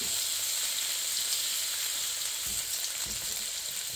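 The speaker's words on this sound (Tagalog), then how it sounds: "pwede na rin naman agad-agad natin isunog yung ating bawang" Garlic sizzles and fries in a pan, a steady close hiss of hot oil with a few faint stirring scrapes and no talk.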